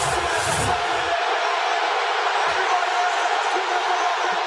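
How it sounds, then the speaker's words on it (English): Loud arena crowd roar at a sports event, a sustained wash of cheering that stays constant and fairly distant-sounding, with a brief thump near the start. "the crowd's so loud I can't hear them"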